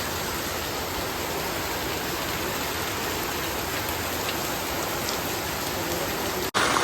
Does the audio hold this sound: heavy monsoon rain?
yes